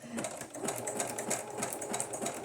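A sewing machine stitches through paper for a junk journal, its needle chattering in a steady rapid rhythm at close range for the whole stretch, with no voices.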